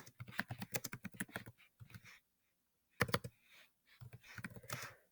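Rapid bursts of typing on a computer keyboard sound close and crisp, with brief pauses between flurries of keystrokes.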